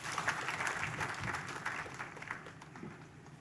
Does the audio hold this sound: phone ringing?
no